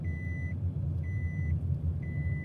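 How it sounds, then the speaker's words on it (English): Vehicle reversing alarm beeping in an even rhythm, three long steady tones about a second apart over a low idling engine rumble, moderately distant. "The song gets old before the beeping stops"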